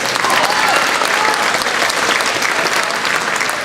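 Loud, sustained applause from an audience at a 2019 awards ceremony, a dense steady patter of many hands clapping that fills the whole stretch without pause.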